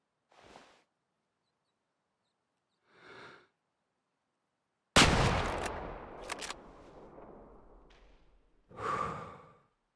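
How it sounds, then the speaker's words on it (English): A single hunting rifle shot at an animal in Way of the Hunter, a sudden loud crack with a long rolling echo, framed by quiet sighing breaths before and after. "I shoot it in the head."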